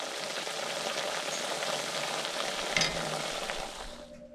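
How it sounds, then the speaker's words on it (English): Thin slivers of potato fry in a pan with a dense, continuous sizzle, close and steady, and one short clatter near the end as the sizzling fades. "I am frying up some potato slivers"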